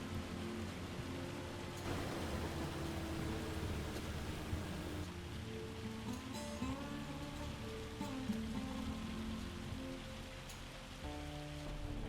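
Steady rain pattering on surfaces in the video game Farming Simulator 25, a constant soft hiss with light drops and faint background tones, even and unbroken, with no voices.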